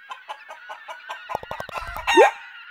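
Poultry chickens cluck in a steady series of short calls close by, a louder squawking flurry follows, and one drawn-out rising cry ends it.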